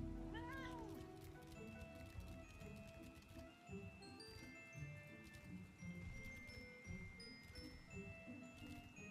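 A cat meowing in the video game Final Fantasy 14, a few rising high mews near the start over a bed of soft game music and chimes, with faint talk mixed in.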